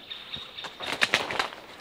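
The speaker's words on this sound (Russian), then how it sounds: "птички поют" Small birds chirp in short sharp bursts in a dense linden and oak forest in June, several quick calls clustered together at moderate distance with no talking.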